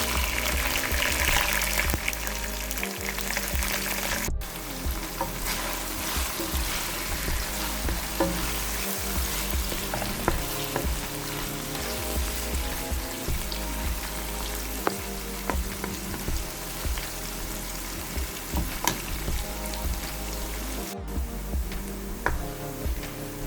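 Chicken pieces for creamy chicken pasta fry in hot oil until golden brown, giving a dense, continuous sizzle with occasional pops and faint stirring, steady and close for a long stretch.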